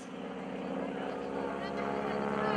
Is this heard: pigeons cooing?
no